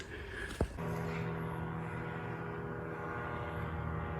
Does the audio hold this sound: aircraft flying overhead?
yes